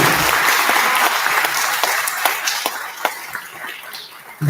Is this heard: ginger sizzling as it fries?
no